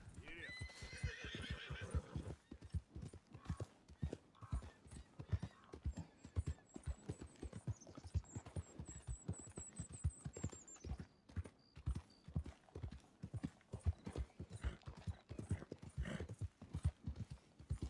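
A horse in Red Dead Redemption 2 gallops with steady hoof clip-clops and neighs loudly near the start, while someone talks over the hoofbeats throughout.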